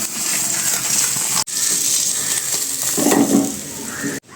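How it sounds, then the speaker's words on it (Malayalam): Onions dropped into the hot oil left from frying karimeen pearl-spot fish crackle with a loud, continuous sizzle, with brief pauses and the clatter of a spoon in the pan. "ഈ എണ്ണയിൽ തന്നെ നമ്മൾ ഉള്ളി, തക്കാളി ഒക്കെ ഇട്ട് നമ്മൾ ഒന്ന് ആദ്യം നമ്മൾ ഉള്ളി ഇട്ട് കൊടുക്കാം"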